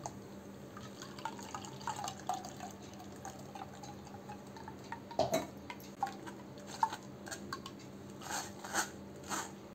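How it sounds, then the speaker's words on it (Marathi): Ground coconut milk mixture for solkadi is strained. Soft, faint drips and light ticking liquid sounds fall irregularly, growing a bit busier in the second half, in an otherwise quiet setting. "परत आपण एकदा आता गाळून घेऊ हे मिश्रण।"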